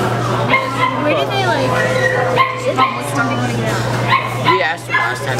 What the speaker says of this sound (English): Can we just play with the Pomeranian?